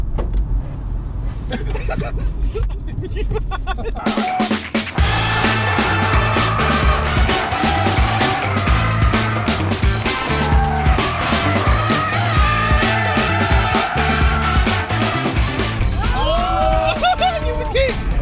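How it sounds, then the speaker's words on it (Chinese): Stretched Tesla Model 3, lengthened to 6.1 metres, accelerating hard with tires squealing: loud, sustained screeching and whine after a brief quieter start, with excited voices and noise mixed in throughout. "这才是特斯拉的声浪！"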